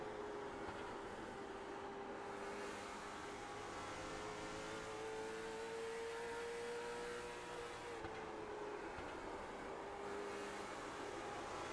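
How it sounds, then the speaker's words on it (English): Late model stock race car engines roar steadily from a distance at Five Flags Speedway, the pitch rising and falling as cars circle the track, with no talking. "These cars sound so good."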